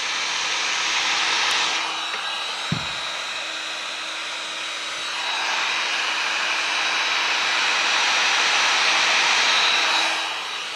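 A heat gun shrinks heat shrink tubing over GPS wiring for an ATV, blowing a steady, loud whooshing hiss that dips briefly, then swells again, with one sharp click early on.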